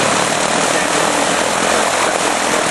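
A microlight aircraft with a high-power engine and a high power-to-weight ratio, at an airfield flying festival, gives a steady, loud, continuous engine drone with a broad rushing roar that holds even for about three seconds, with no voices.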